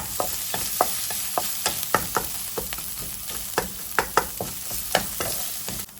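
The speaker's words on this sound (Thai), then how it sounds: "เราผัดพริกแกงกับไก่ให้เข้ากัน" Red curry paste and chicken stir-fry in a hot pan, a constant sizzling hiss punctuated by frequent rhythmic scrapes and clinks of a spatula against the metal, close and clear with no talking.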